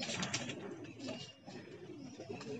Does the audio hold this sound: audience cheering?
no